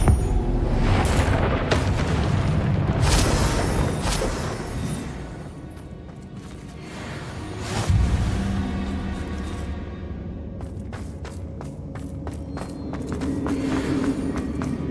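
Booming spell blasts from a Bombarda explosion in the video game Hogwarts Legacy, a few heavy impacts and rumbles mixed with footsteps and game effects, fairly loud throughout.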